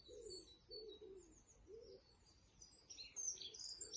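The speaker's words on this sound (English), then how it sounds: "I can also hear lots of birds in my garden." Birds in a garden, with pigeons or doves cooing in a steady, repeated low rhythm and thin chirps scattered above them, quiet and fairly distant, with no voices.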